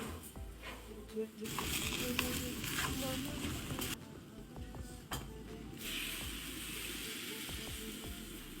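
Fish chilies for a Sri Lankan milk curry sizzling in a pan, a hissing fry that swells and drops in bursts with clanks of stirring, a voice talking over parts of it.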